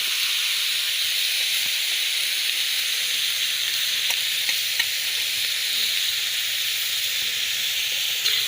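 Chicken pieces sizzle and fry steadily in a hot pan after salt goes in, a loud, continuous close-up hiss with faint stirring scrapes and no talking.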